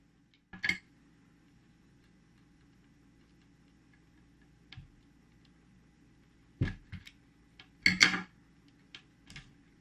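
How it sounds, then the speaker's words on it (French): Scissors snipping around a wire while making a battery cartridge for a Polaroid SX-70 or 600 camera, a few sharp close clicks and short cutting bursts separated by quiet pauses. "je vais utiliser ciseaux pour juste couper un peu autour sans couper le fil"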